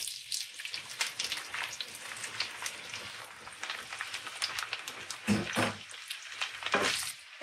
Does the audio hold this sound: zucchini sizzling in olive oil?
yes